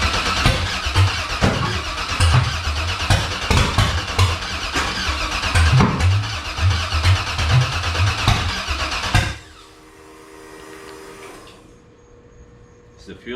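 A Factory Five 35 hot rod truck engine cranks over on its starter for about nine seconds in a loud, steady chugging rhythm without catching, then cuts off, leaving a quieter hum.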